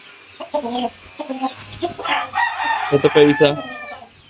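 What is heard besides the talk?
rooster clucking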